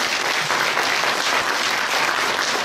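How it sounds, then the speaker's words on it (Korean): Audience applause fills the hall at a Korean ombudsman launch ceremony, a dense, steady roar of many hands clapping at once, loud and sustained from start to end with no talk over it. "여러분 자신을 위하여 박수 한번 크게 한번 쳐주십시오"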